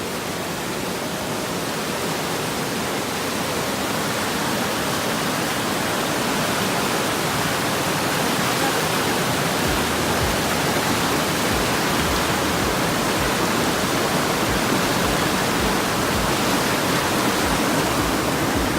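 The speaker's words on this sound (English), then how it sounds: "Here's like some videos of a little bit of rain and a little bit of the waterfall. Just listen to the beautiful sound of nature." Steady, full-bodied rushing water from a waterfall mixed with rain in Yosemite, a continuous dense hiss and roar at constant level with no voices.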